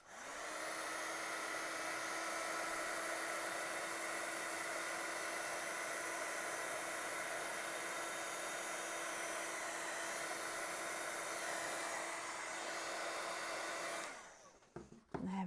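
A heat tool blows hot air over embossing powder on a handmade card, a loud steady whirring roar that runs unbroken for about fourteen seconds before cutting off with a brief clatter.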